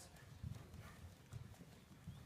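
A horse cantering in an arena makes soft, rhythmic hoofbeats in a steady three-beat pattern, faint and muffled under low background noise.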